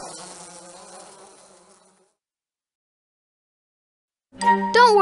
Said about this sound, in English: The bees quickly departed.